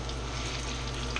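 Turkey meatballs sizzle on the hot side of a pan, a dense, even frying hiss heard close and alone without pauses.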